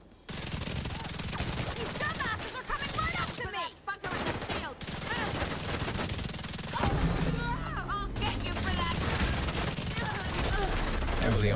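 Rapid bursts of gunfire from shooting at enemies in a video game, dense and loud throughout, with shots layered over game noise and a low rumbling swell near the end.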